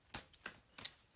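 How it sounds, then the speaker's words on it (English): Tarot cards are shuffled by hand in three brief papery riffles spaced irregularly, close and fairly quiet with no talking. "So I'm shuffling these cards, but there's nothing flying out"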